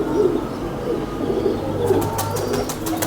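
Golden striped pigeons keep up a low, continuous cooing close by, with a brief flutter of wings near the end and no talk.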